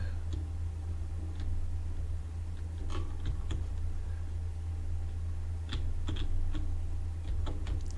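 Computer keyboard keys tapped while playing a warehouse-rebuilding store simulator game, irregular clicks in small bursts over a constant low fan hum, fairly close and clear.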